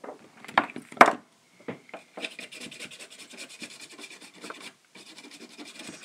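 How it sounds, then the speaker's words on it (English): A part from a Commodore 1084 monitor is scrubbed gently with isopropanol, a few sharp knocks at first, then steady rhythmic brushing and rubbing strokes, close and fairly quiet, with no talking. "I'm just scrubbing this with some isopropanol"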